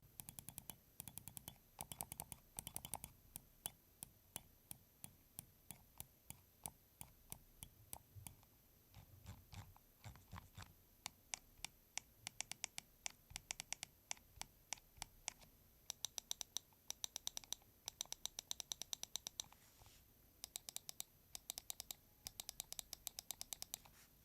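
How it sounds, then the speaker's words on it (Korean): Sharp, dry clicks from an A2 GM7 Carbon ultralight gaming mouse, pressed in quick bursts and steady runs close to the microphone with no talking. "이제는 클릭 소리 한번 들어보도록 할게요"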